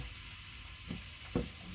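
Pork sizzles in a hot frying pan, a steady low crackle with a couple of louder bursts as more meat is dropped in, heard close and alone.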